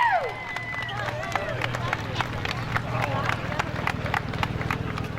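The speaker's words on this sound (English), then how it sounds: "How about a nice round of applause for your winner today, car number 31, Jason Hodgson." A stock-car track crowd gives scattered, uneven clapping for the feature race winner in victory lane, the claps sparse and mid-distance over a steady low hum and background babble.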